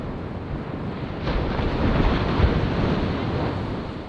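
Sea waves breaking on the beach at Poovar Island, a steady broadband wash of surf that swells slightly midway, with wind rumbling on the microphone and no voices.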